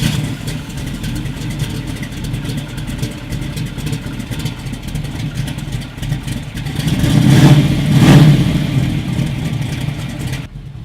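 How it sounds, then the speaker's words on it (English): A 1968 Chevrolet Camaro engine runs steadily throughout, building into a louder revving surge near the end as the car drives off, with no talking. "Let's take this thing for a spin."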